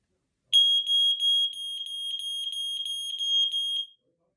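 A home smoke alarm sounding during its monthly test: a loud, piercing, rapidly pulsed electronic beep that starts abruptly, runs for about three seconds, then cuts off, with silence before and after.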